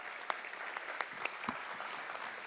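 At an arangetram dance recital, a small audience applauds the musicians with faint, sparse clapping, a few sharper individual claps standing out from a soft background.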